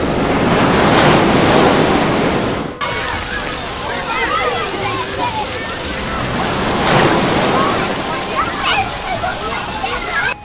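Severe flash-flood water currents rush steadily and loudly during mountain mudslides in Uttar Pradesh, India, a dense continuous roar and slosh of churning water with no pause, close and filling the whole scene.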